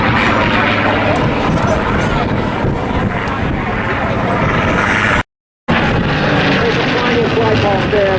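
A Griffon-engined warplane roars past at an airshow, a loud, continuous engine drone with heavy wind buffeting and an announcer's voice over it, cut by a brief gap of silence.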